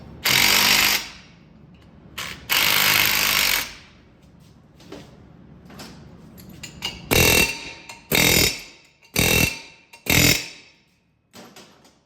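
A hammer strikes a brake rotor seized on the hub of a 2006 Chevy Silverado, giving a series of loud metallic bangs in irregular bursts, some long and ringing, with quieter gaps between, close up in a garage.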